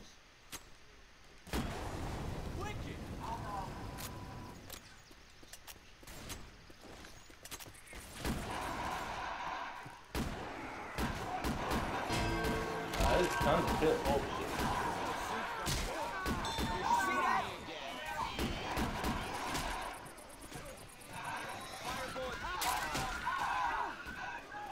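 Incendiary-round gunfire in Left 4 Dead 2, with repeated sharp shots and bursts over nearly half a minute, loud and dense in places amid game clatter, with players talking over it.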